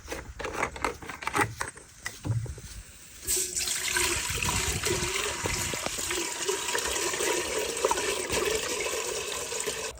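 Water flows steadily into a cooking pot over an outdoor village fire, a continuous splashing pour that starts after a few seconds of scattered clatter and runs on without pause.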